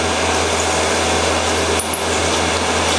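A scratch-built CNC mill with an automatic tool changer drills a hole in aluminum, giving a steady, loud whirring drone with broadband machining noise and a constant low hum, unbroken across the whole stretch.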